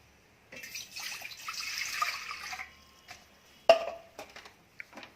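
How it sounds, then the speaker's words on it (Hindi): Water poured into a cooking pot, a steady splashing stream for about two seconds, followed by a few sharp clinks and small knocks nearby. "एक पतीला लेंगे, उसमें पानी डालेंगे।"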